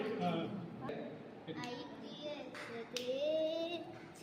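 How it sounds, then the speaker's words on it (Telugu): Scattered clapping from a small group at a birthday celebration mixes with children's voices and singing-like chatter, with a few sharper claps standing out near the middle. "ఒకసారి అందరు గట్టిగా క్లాప్స్ క్లాప్స్ క్లాప్స్"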